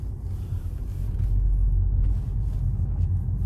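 A VW Passat driving on a road, heard from inside as a low, steady engine and road rumble that rises slightly and holds throughout.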